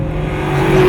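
A 2000 Ford Mustang GT with an Airaid intake and Flowmaster cat-back exhaust accelerating under throttle, its loud close engine note droning and rising steadily as it builds speed.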